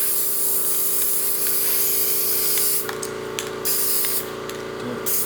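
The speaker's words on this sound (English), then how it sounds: "this is basically some of the cheapest paint I can find, and I'm going to give this kind of a light coat" Cheap spray paint misted lightly onto a wooden trivet in a few short hissing bursts over a steady background hum, with brief pauses between passes.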